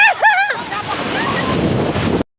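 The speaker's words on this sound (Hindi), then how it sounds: "संगवारी हो देखो समुद्र ला" Ocean surf washing onto the beach at Puri, a steady broadband wash with wind buffeting the microphone, preceded by a brief burst of voices at the start before the rush of waves takes over and cuts off abruptly.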